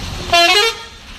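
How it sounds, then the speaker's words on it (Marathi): A single short, loud blast of a bus horn, close by, lasting under half a second over faint road noise. "हा होता बसचा हॉर्न."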